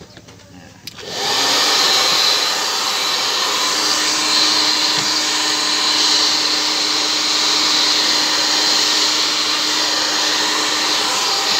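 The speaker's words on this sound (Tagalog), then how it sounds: "Kailangan natin ng blower. Maingay ito kaya papakita ko lang sa una." A blower-style heat gun starts with a click and then runs at a loud, steady whooshing roar with a faint whine, unbroken for about ten seconds with no talking.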